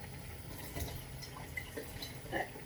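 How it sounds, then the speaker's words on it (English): Water is poured out of a cooking pot holding chickpeas and potatoes, with faint splashes and drips trickling into a sink at low level in a quiet kitchen. "Let me just empty some of this water out."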